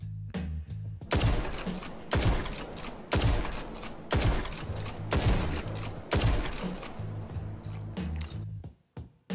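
The First In Last Out shotgun fires in a Destiny 2 Crucible match, six loud blasts in a steady rhythm roughly one second apart, close and punchy with a short mechanical tail after each, no talk.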